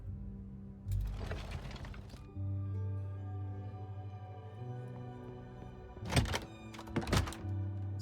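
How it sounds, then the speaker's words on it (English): A portrait slides into place in the video game The Bookwalker: Thief of Tales, with a dull thunk and scraping rumble followed by a sustained low tone and two sharp crunching hits near the end, with no talking. "Portrait slides right into place."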